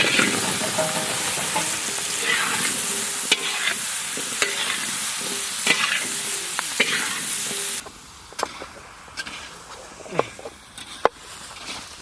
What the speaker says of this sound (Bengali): লবণ, কাটা আলুটা দিয়ে দেবো।